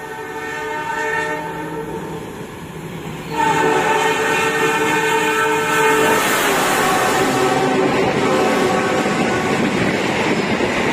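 A long Indonesian passenger train passes with a sustained, blaring multi-tone horn that grows louder midway, over a rushing rumble of wheels and moving air.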